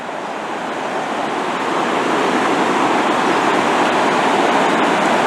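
A river flowing at night in Takayama, Japan, gives a steady, full rushing wash of water that swells slightly after the first second and then holds even and close throughout, with no voices.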